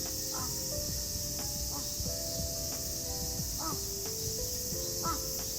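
Crows caw in Tokyo, several short harsh calls spaced a second or so apart at moderate distance, over a steady buzzing background of insects and distant city noise.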